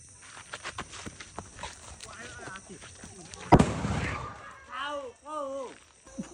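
Firecrackers set off during the Tihar festival, with one sharp, loud bang near the middle ringing out over scattered smaller pops, while people talk and call out throughout.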